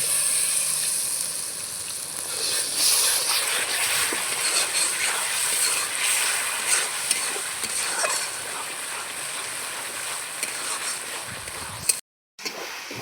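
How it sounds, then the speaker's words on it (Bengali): Spice paste for mutton curry (mutton kosha) being stir-fried with a splash of water, giving a steady, fairly loud sizzle with scraping stirs throughout and a brief cut near the end. "এই জলটা এখন মশলার ভেতরে দিয়ে ভালো করে কষাবো"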